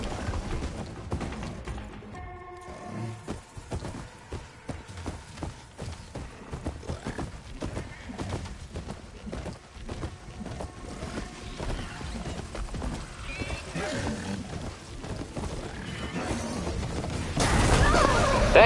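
A horse mount in the Horizon Forbidden West video game, its hoofbeats clopping steadily amid busy game action, with a brief whinny possible and the overall din swelling louder near the end.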